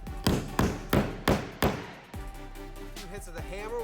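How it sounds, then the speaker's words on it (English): Hammer blows driving a bolt flush into a pontoon's new plywood deck, four sharp, evenly spaced thuds close up, followed by quieter background sound. "hits of the hammer will get it nice and flush"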